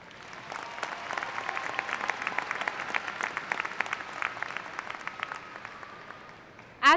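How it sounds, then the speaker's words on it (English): A high school commencement audience applauds award winners in a large venue, a steady, fairly distant round of clapping that lasts throughout. "let's give all of our academic award winners another round of applause"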